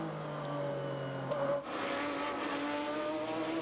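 Sports prototypes in the 2003 Grand-Am Rolex Sports Car Series brake into turn 4 at Mid-Ohio, their engines droning at a distance before the pitch drops sharply partway through as they slow for the corner.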